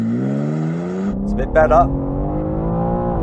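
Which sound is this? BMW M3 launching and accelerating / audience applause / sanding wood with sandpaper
BMW M3 launching and accelerating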